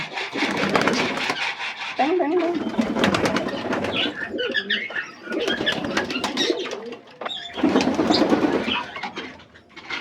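Young pigeons at a night feeding coo in repeated throaty, rolling phrases, close and fairly loud, with a person's voice talking in between.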